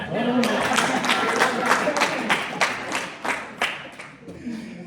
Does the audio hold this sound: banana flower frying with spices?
no